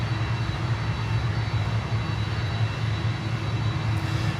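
A FedEx cargo jet comes in to land at Miami toward runway 8. Its engines give a steady, distant roar with a low rumble that stays constant throughout, and no voices are heard.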